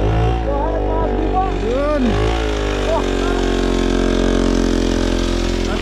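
A motorcycle engine at an endurance race event runs loud and close with a steady, rumbling idle and rising and falling revs, while people talk over it.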